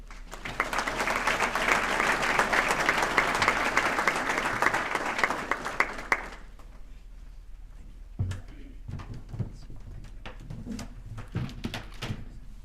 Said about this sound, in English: please join us in welcoming Athletic Director Jude Killey to say a few words.